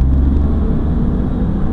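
Small high-compression Mitsubishi-built engine of a Smart car, a steady low rumbling drone while driving, continuous and fairly loud with road noise and no voices.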